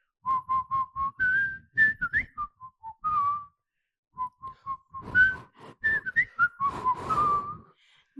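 Someone whistles a cheerful melody solo, clear bright phrases with short pauses, a quiet gap midway before the tune resumes with livelier runs.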